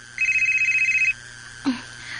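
A cellphone rings with a steady trilling electronic tone for about a second in a quiet room, followed by a short low knock or thud.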